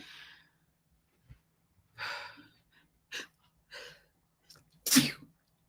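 A few sharp breathy inhales building up, then one loud sneeze close to the microphone, with near-silence in between.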